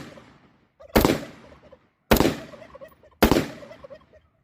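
Three loud rifle shots from an AR with a Wolf T91 piston upper, spaced about a second apart outdoors, each a sharp crack with a decaying tail.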